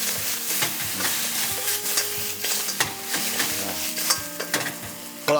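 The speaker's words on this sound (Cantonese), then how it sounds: "紹興花雕酒係啦， 花雕 炸落去啦" Shaoxing Huadiao wine splashed into a hot wok during basil stir-frying, a loud continuous hiss and sizzle punctuated by frequent sharp clatters of a spatula against the wok.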